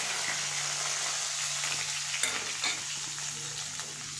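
Curry leaves sizzling in hot tempering oil, a steady close crackling hiss with a few louder pops and a low hum underneath, with no talking.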